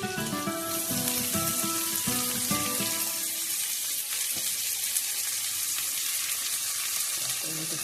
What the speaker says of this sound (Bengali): লঙ্কাটা এখনো ভেজে নিই